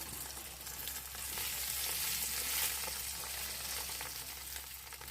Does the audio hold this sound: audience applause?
no